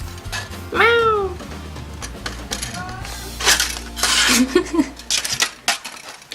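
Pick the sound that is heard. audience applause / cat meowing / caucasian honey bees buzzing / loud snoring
cat meowing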